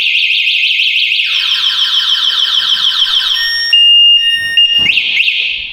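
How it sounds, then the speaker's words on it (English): A Golf car alarm sounds loud and close, with a rapidly warbling siren that shifts into steady electronic tones and quick chirps before cutting back to a wailing sweep. "this signal indicates that my car is under alarm"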